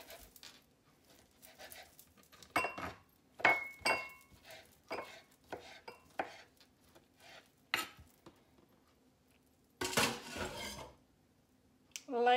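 Knife slicing ingredients for a ham and cheese omelet cooked in a waffle iron: a series of crisp, irregular cuts and clinks against a board, fairly close, with brief pauses and a louder clatter near the end.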